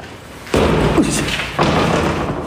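Heavy door slams twice inside an old abandoned hospital, each one a loud sudden bang with a short echoing tail, about a second apart.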